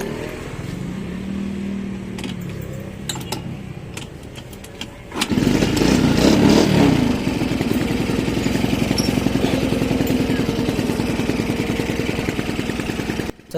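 A small Choi Nori motor scooter engine sputters to life with one kick after some clicking and a tune-up, revs briefly, then settles into a steady, close putt-putting idle.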